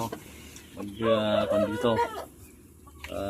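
Free-range native chickens cluck and squawk close by in a short burst, with rising, harmonic calls over quiet farmyard background.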